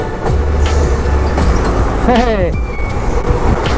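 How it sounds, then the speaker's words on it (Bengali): Loud, continuous rumble of a passing train with a brief wavering squeal or horn tone midway, heard over wind and background noise. "ওই দেখো ট্রেন যাচ্ছে ফারাক্কাতে"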